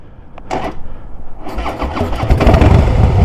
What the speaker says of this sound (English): It sounds like it don't want to start, and then it starts right up.